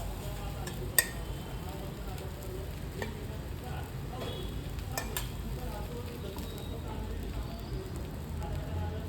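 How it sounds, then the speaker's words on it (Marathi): Garlic chapati frying in a spoonful of oil on a hot griddle, a steady low sizzle running throughout with a few sharp clicks of a utensil. "आता आपण ह्याच्यावर ही लाटलेली गार्लिक चपाती टाकणार आहे आणि वरून परत एक चमचाभर तेल सोडायचं आहे"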